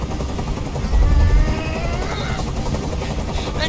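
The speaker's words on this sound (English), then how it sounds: "I can't stand that noise anymore. Tell that helicopter to get out of here." A helicopter hovers nearby in Detroit: Become Human, its loud continuous rotor thrum and whine filling the whole moment with a heavier low pulse near the start.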